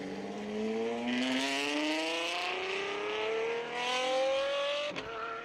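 An Apollo Intensa Emozione with a naturally aspirated V12 accelerates hard, its engine note climbing steadily in pitch through the gears, loud and close, with a second swell of roar before a quick shift near the end.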